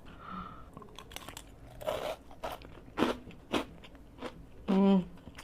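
Crunchy rengginang rice crackers from Tulungagung bitten and chewed with rice during a mukbang: close, sharp crunches in irregular bursts, with brief vocal sounds and a short voiced hum near the end.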